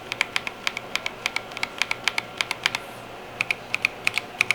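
Crisp clicky keystrokes from a mechanical keyboard with crystal switches, typed at a steady uneven pace with a short pause midway, close and fairly quiet.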